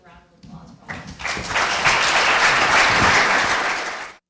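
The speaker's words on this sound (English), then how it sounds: "But we can actually give a round of applause" Brief talk at the start gives way to a full round of audience applause at a health care conference, swelling quickly into dense, loud clapping that holds for several seconds before cutting off abruptly.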